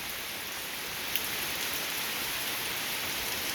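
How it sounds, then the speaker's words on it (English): Steady rain falls in an even, hissing wash with no breaks or voices, a constant soft patter of drops on surfaces throughout. "Alright, well y'all seen rain"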